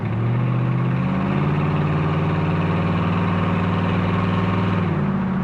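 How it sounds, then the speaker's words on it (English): A fuel-injected Corvette resto-mod engine hums steadily while cruising in traffic at about 35 mph, a loud, close, smooth drone with slight pitch shifts, and no voices over it. "here we are trundling along in traffic at 35 miles an hour, and it's perfectly content to do that."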